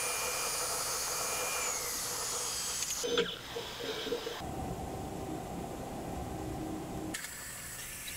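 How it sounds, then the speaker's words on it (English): A lathe roughs a steel sleeve fixture down to a 1 5/8 inch diameter, producing a continuous hissing machining whir that shifts in tone as the cut changes. No one speaks. "Just roughing it off here down to 1 5/8 inch diameter."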